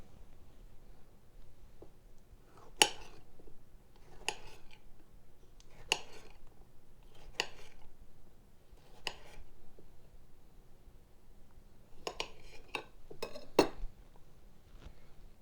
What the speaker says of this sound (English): And then I'm going to take my tomato and slice it.